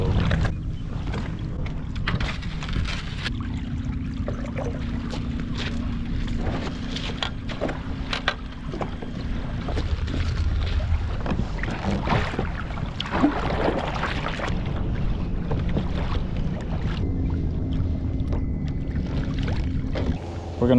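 A boat motor idles slowly through shallow water on a pre-spawn bass fishing trip, a steady low hum with washing water and some wind noise running the whole time.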